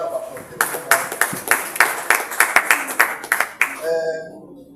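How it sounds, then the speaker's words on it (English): Applause from a group at a coaching course, a run of sharp, distinct hand claps in a rough beat lasting a few seconds, close and loud, ending as a voice begins speaking. "Give us a round of applause."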